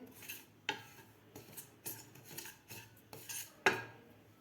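A spoon stirs dry mustard dal in a hot pan: a series of quiet scraping strokes with sharp metallic clinks against the pan, roughly twice a second, close and with no talking.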